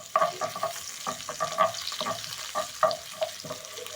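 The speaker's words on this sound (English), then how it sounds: "you're going to cook the onions until translucent" Diced onions fry in butter in a pan for creamed spinach, with a soft sizzle under repeated scraping stirs that come in short, uneven bursts close by.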